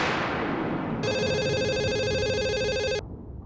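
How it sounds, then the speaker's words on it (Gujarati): A telephone rings in a household scene from a Gujarati TV drama, one bright, warbling electronic ring lasting about two seconds, loud and close, with no talk over it. "રિંગ જાય છે."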